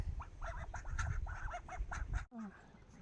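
Farmyard ducks kept alongside a loose rabbit quack in a quick, close series of nasal calls, then fall silent before a softer sound follows.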